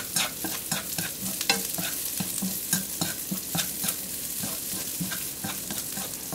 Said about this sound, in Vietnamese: tôm khô vào xào khoảng chừng 2 phút cho săn